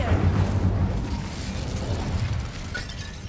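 Incendio fire spell cast in the video game Hogwarts Legacy: a loud eruptive burst with crackling, shattering debris that settles into a rough, roaring rumble, with a small bright ping near the end.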